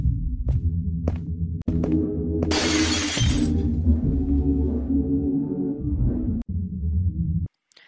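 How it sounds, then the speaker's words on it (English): Glass window shattering in a video game as a specter escapes: one loud, bright crash lasting about half a second, over a steady low droning ambient bed with a few sharp clicks before and after. "Come back into the room, and you'll immediately hear glass shattering"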